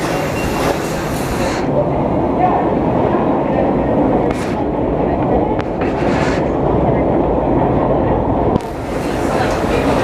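Montreal STM metro train riding between Papineau and Guy-Concordia stations, a steady loud rumble of wheels and motors inside the car with brief hisses and clatters, and passengers talking faintly beneath the din.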